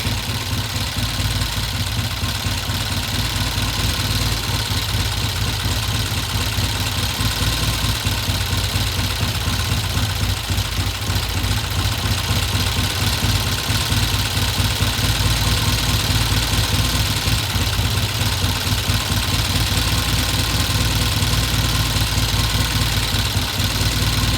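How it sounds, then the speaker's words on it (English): A 1969 Norton motorcycle engine idles steadily and loudly up close, a continuous throbbing drone with an even pulsing beat and no talk over it. "Now I'm going to turn the idle down a little bit because by adjusting it, we got a little faster idle."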